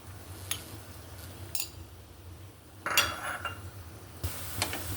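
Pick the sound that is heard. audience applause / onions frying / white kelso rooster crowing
onions frying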